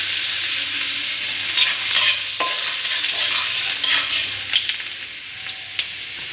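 Ginger and garlic fry for chicken in a pan, making a loud, steady sizzle up close, broken by occasional clicks and scrapes of stirring.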